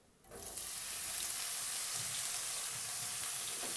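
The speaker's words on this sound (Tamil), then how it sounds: "பன்னீரை நல்லா ரோஸ்ட் பண்ணிக்கணும்." Paneer roasting in butter and a little oil in a pan gives off a steady, close sizzle that starts abruptly and then holds constant, a bright crackling hiss with no one talking.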